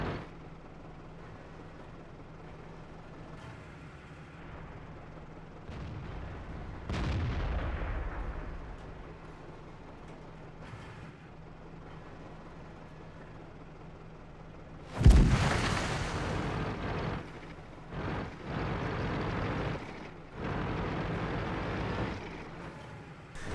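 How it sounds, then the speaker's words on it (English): Tank cannon fire in the online tank battle game World of Tanks on the Prokhorovka map, a deep booming report near seven seconds and a louder, closer blast at fifteen seconds followed by rumbling echoes and clatter over a low engine hum. "Somebody's shooting at the E1 bush just because scouts like to go there."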